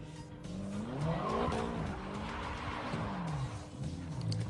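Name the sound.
BMW doing donuts in the street, tires skidding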